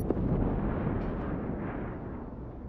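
Dense rumbling barrage of missiles and cannons firing in an Endless Space 2 space battle, a continuous wash of blasts and booms that slowly fades out, with no talk.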